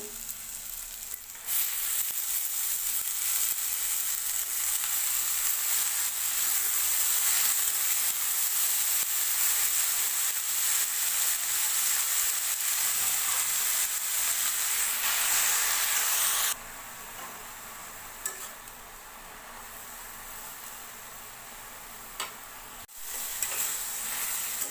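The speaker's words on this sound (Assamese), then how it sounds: "এতিয়া দিছোঁ শাকখিনি।" Spinach frying with salt in a hot pan, loud continuous sizzling and hissing with scraping stirs, dropping to a quieter simmer partway through, no voices.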